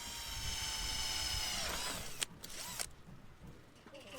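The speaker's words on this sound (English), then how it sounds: "Drill in one hand, solar panel in the other." A power drill mounts a solar panel on a house roof, whining steadily at first and then winding down, with short bursts and clatter toward the end.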